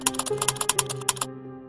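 A command being typed on a computer keyboard, a quick, close run of about a dozen crisp key clicks in an uneven rhythm that stops abruptly, leaving a faint tail.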